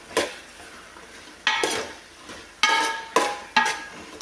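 Tomatoes, onion, drumstick, brinjal and beans sautéing in a pan for sambar, with a faint sizzle beneath four or five sharp scraping stirs of a spoon against the metal, close up and with no talk.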